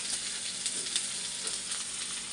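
Onions frying in hot oil for birista, a crisp fried-onion garnish for chicken tehari, give a steady, even sizzle with faint stirring scrapes and no voices.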